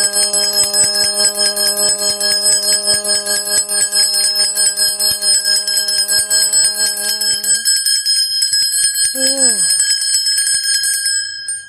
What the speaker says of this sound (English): for some reason, I feel like what we need is the bell.